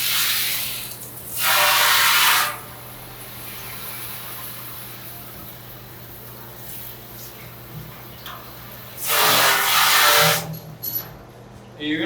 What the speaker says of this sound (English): And then I'm going to rinse it again.